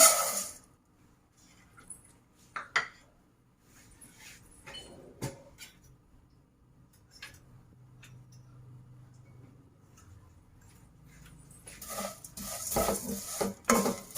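Vermicelli frying slowly in oil with cardamom powder in a kadai: sparse clinks and scrapes of a spatula against the metal over a faint, quiet sizzle, then a denser burst of stirring and sizzling near the end.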